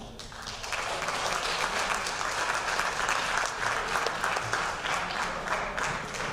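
A banquet crowd gives a steady round of applause for the Ellenville Central boys varsity soccer team and Coach Barrera, the clapping moderately distant, even and continuous.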